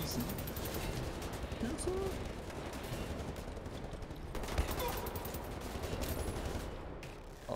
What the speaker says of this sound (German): Alter, könnt ihr mal aufhören zu schießen?